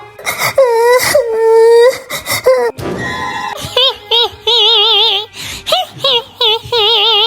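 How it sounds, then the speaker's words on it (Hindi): A young girl cries in a Hindi horror story, with loud, close, wavering sobbing wails broken by sharp gasping breaths and short pauses. "लगता है किसी बच्ची लड़की के रोने की आवाज है।"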